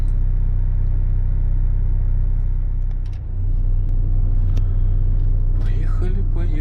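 A cargo truck setting off, a heavy low engine rumble drumming close and steady, a brief dip midway before it pulls away, with someone talking over it near the end.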